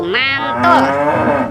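A toy animal sounds a cow's moo: one loud, drawn-out bellow with a rising then falling tone, heard close and alone for about a second and a half.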